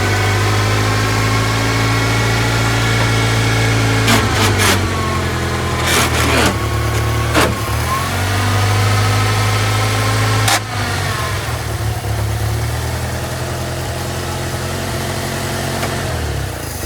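An old Toyota forklift engine idles with a steady, loud mid-pitched drone. A few sharp knocks and rattles briefly cut through the constant hum.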